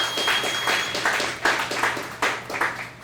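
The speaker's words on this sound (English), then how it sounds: "Can we give Joan another round of applause" Open mic audience clapping in a small room, a modest group of hands in uneven bursts that swell and dip, with a low steady hum running underneath.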